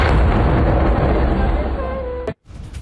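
A heavy explosion from an Israeli airstrike bombing in southern Lebanon rumbles as a dense, loud, sustained boom of debris and blast noise that cuts off abruptly near the end.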